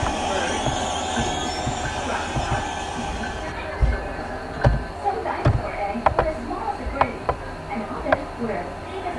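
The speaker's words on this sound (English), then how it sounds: "Go ahead and throw on the locomotive brake." An NJ Transit locomotive brakes to a stop at a platform in the Train Simulator 2016 game, with a steady rolling rumble and scattered clanks and squeals from the wheels as the train slows.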